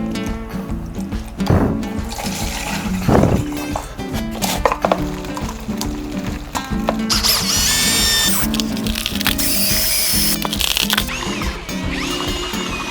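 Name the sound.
drill with mixing paddle stirring concrete bond slurry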